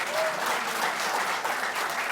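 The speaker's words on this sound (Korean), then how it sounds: "이럴 때는 좀 박수 좀 크게 쳐주십시오" Party delegates clap together at a convention hall, a dense, steady burst of applause that fills the short stretch without pause.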